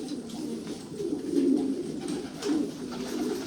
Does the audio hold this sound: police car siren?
no